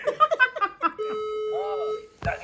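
A home fire alarm system plays a recorded voice warning in short spoken bursts, then holds a steady electronic tone for about a second. A brief sound cuts in at the end.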